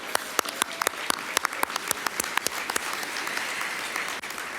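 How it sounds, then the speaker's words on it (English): Another round of applause at an awards and recognition dinner, a large room of sustained clapping with sharp individual claps standing out, continuous and fairly even for several seconds. "So we're going to give them another round of applause."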